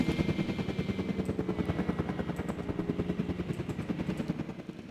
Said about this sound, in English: Why are Russian helicopters and stuff so cool?